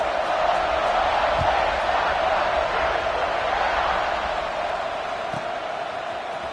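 A football stadium crowd roars steadily at kickoff of an Oregon vs Ohio State game, a dense, loud wall of cheering that holds throughout with faint whoops.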